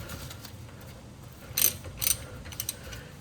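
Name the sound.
socket wrench ratcheting, loosening Toyota Corolla brake bolt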